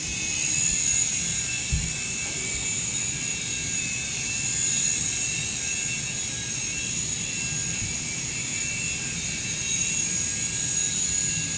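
A SYMA S107H altitude-hold toy remote-control helicopter flies nearby, giving a steady high-pitched rotor whine and motor buzz that holds throughout, with no talking.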